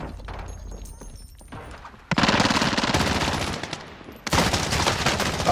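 Bursts of automatic gunfire from enemies in the Warzone video game, heavy rapid volleys starting about two seconds in, pausing briefly, then resuming loud and close.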